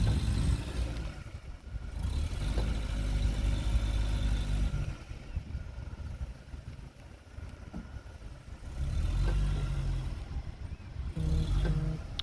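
A car stuck in a muddy desert revs its engine in two long surges, wheels spinning, with a quieter idling stretch between them.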